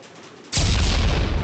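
A grenade goes off in a GTA-style game, a sudden loud boom after a quieter lead-in, followed by a sustained roaring blast rumble that fills the rest of the moment.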